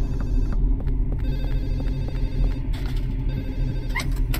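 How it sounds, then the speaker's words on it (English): A telephone rings in the Silent Hill 4 video game, its bell sounding in repeated bursts over a dense, low ambient rumble inside an apartment building. "The phone's still ringing."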